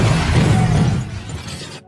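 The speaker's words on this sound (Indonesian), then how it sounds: "dia pun tancap gas dan kemudian ia bertabrakan dengan mobil lain yang berhenti di tengah" A car slams into another car stopped in the middle of the road in a film, a loud crunching crash with breaking debris that rings out and fades before cutting off.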